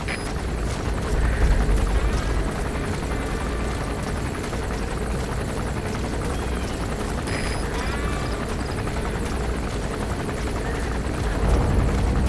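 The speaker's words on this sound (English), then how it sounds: "There's a chopper landing." A helicopter comes in to land in the video game Metal Gear Solid V: The Phantom Pain, its rotor roar loud and sustained with engine whine, plus a few faint game sounds layered over it.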